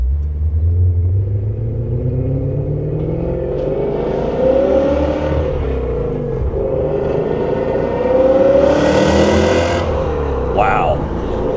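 A 2000 BMW E39 M5 V8 revs and pulls through the gears while driving, a loud close rumble that rises and falls in pitch, with a person talking over it.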